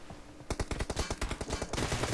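Automatic gunfire in the video game PUBG Mobile: one loud, close burst of rapid shots that starts abruptly and runs without a break to the end.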